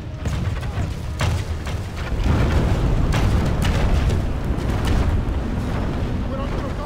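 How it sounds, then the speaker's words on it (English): Catapult stones crash into Moorish Camel Gunners outside a keep during a Medieval II: Total War siege battle, heavy booming impacts over a continuous, swelling rumble of battle din. "A catapult scores a bull's-eye at the Moorish Camel Gunners outside the keep, killing some 15 men."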